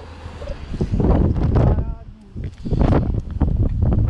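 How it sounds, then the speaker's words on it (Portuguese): Strong wind buffets the microphone on a steep zigzag street near the waterfront in San Francisco, a loud continuous low roar with gusts throughout; speech is faintly mixed in. "um vento do cacete."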